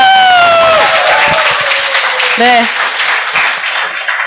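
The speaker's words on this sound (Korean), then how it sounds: "우리 자신을 위해서 한번 박수 한번 칠까요?" Business owners at a Sunday lecture applaud themselves, a loud round of clapping with some cheering across a room, while a few voices speak briefly over it.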